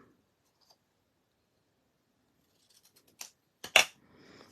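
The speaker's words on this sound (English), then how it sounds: "So I'm just going to go ahead and cut this in an angle." Scissors snip through cardstock at an angle on a papercraft table after a long near-silence, giving a few sharp, close cutting clicks in quick succession.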